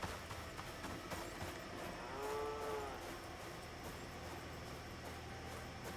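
A single low, drawn-out moo-like call from an antelope in the video game Icarus rises over a steady wash of background noise, moderately distant.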